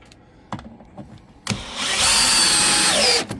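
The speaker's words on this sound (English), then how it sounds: "drill that in there." A few light clicks and taps, then a power drill driving screws whirs up loudly and runs steadily for about a second and a half, close by.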